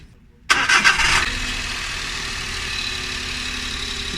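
A Suzuki Every Wagon (DA64W) engine cranks and catches after a brief starter whir, then settles into a steady, fairly loud idle during a cooling system flush.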